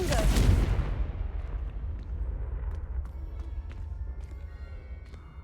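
A blasting spell explodes in the Hogwarts Legacy video game, one sharp loud burst that decays into a lingering rumble with faint crackles afterward.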